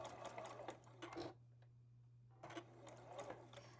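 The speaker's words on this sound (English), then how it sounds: "This is just straightforward chain sewing." A sewing machine chain-stitches fabric squares for a quilt in quick, loud bursts of rapid mechanical stitching, pausing for about a second midway, over a steady low motor hum.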